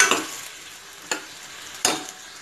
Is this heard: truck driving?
no